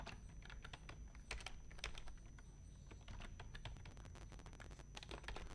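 Rapid, steady typing on a computer keyboard while entering text for a school poster design, with a dense run of close, crisp key clicks and no voices.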